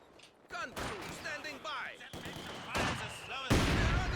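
Mortar fire and battle noise from Company of Heroes 2 play as a series of loud, sharp explosive bangs and bursts with whistling tails, over about four seconds, under a commentator's talk.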